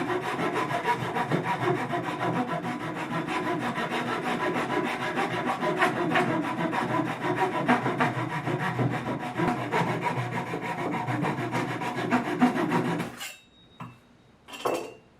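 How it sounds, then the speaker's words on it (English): A hand saw cuts steadily through a wooden chair leg being trimmed level, a continuous rasping stroke rhythm close and loud for about thirteen seconds before stopping, followed by a few short scrapes. "And off I go, sawing it."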